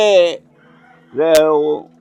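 Chickens on a poultry farm in Sri Lanka give two close, loud clucking calls separated by a short pause.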